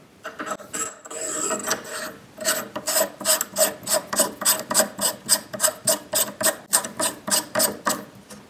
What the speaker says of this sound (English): Secure back in your fixture and we can install the barrel nut.